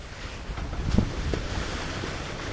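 Steady wind rushes over the microphone aboard a sailboat at sea in about ten knots of breeze, with soft water wash from a light swell underneath, continuous and fairly close, no voices.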